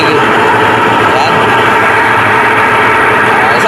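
A converted washing machine, changed from automatic to manual operation, runs on spin dry with a loud, steady motor whir and drum roar that continues without a break.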